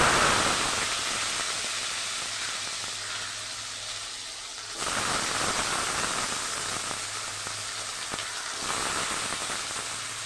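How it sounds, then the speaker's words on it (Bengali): Potatoes hit hot oil in a pan for a vegetarian potato and pointed gourd curry, and a loud, steady sizzle follows, with a sharper surge of crackling partway through and no talking. "এবারে আমি আলুগুলো ছেড়ে দেবো।"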